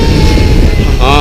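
A camera drone hovers over the deck of the warship Te Yang, giving a loud, steady propeller buzz close by with a thin whine over a broad rumble. Near the end the whine shifts and wavers as the drone moves.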